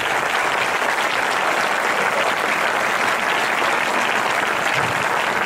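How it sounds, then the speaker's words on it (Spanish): A loud, dense, unbroken wall of audience applause for the board of a youth sports club at its team presentation for the 2021-2022 season, steady throughout with no pause. "Un fuerte aplauso."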